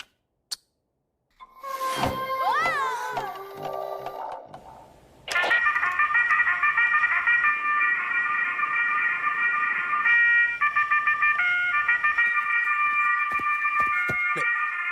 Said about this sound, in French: Mais c'est mon réveil.